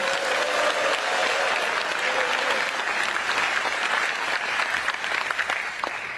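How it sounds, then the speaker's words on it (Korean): A large crowd at a Korean political gathering breaks into loud, sustained applause. The clapping stays dense throughout and thins into scattered claps near the end. "박수 한번 쳐드리면서 시작하면 어떨까요"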